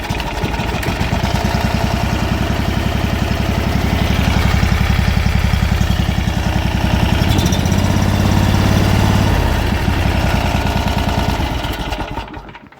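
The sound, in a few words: new electric-start 670 engine cranked and running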